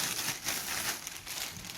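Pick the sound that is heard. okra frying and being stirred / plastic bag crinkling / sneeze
plastic bag crinkling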